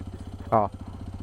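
A Hero XPulse 210 motorcycle idles nearby during a monsoon ride, its steady, rhythmic low putter running under a voice, with a brief louder burst partway through.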